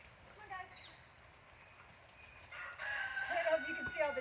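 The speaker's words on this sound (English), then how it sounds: "Can you see all my chickens out there? You can hear them." Backyard chickens and a rooster crow and cluck at a distance, faint calls scattered through a quiet outdoor scene that grows busier toward the end.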